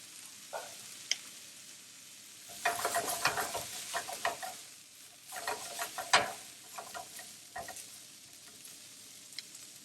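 Green beans and other vegetables frying in a pan, a soft steady sizzle with bursts of stirring and scraping that rise and fall, close by and alone.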